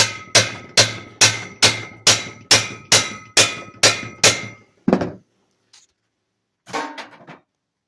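Hammer blows knocking a yoke off a drive shaft on a winch-mounting frame job: about ten sharp, evenly spaced metallic strikes, then a few scattered clanks and a final shuffle.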